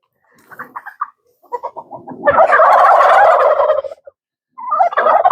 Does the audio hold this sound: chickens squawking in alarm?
yes